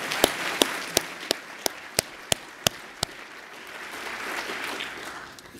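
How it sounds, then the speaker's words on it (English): An audience at a climate conference applauds. Several sharp, evenly spaced claps from one nearby person stand out over softer crowd clapping, which swells slightly toward the end. "That deserves applause."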